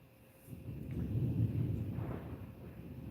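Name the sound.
thunder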